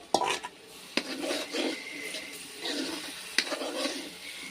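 Garlic paste and a special masala cooking in a pan for spicy mutton sukka and rassa, with soft sizzling under brisk stirring and a few sharp clinks of a spoon against the pan.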